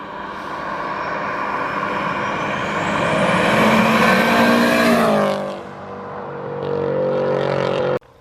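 A 2.1-litre stroker Subaru Impreza engine revs hard and loud, rising to a sustained high-pitched scream before dropping off and climbing again, close up with no talking.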